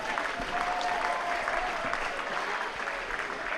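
Home crowd applauding steadily at a men's hockey World League match between Scotland and Wales in Glasgow, a dense, even clapping from a large stadium audience with a faint commentator voice underneath.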